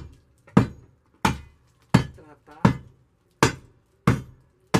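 Rotten plaster on a wall is chipped off with a hand tool in a steady series of about seven sharp, loud impacts, each about two-thirds of a second apart, with brief crumbling after each strike.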